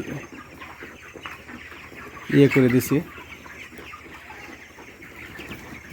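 A chicken clucks loudly in a short burst amid quieter background clucking on a poultry farm, with a person speaking briefly nearby.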